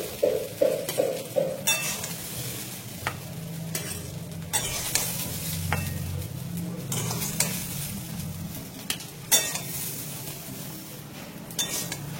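Vegetables fry in a pan while being stirred, making a continuous close sizzle broken by repeated scraping and light utensil clinks against the metal, with no voices.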